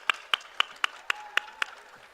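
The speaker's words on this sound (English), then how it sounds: "Can we give them a round of applause?" At an arts awards event, applause comes through as a faint, sparse run of about seven evenly spaced claps at a slow steady rhythm, then fades out.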